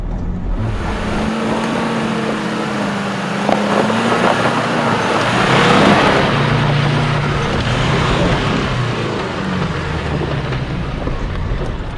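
A 4x4 drives up a wet, rough army trail near Coffs Harbour, its engine droning loudly and steadily throughout, with wheels churning and revs surging toward the middle.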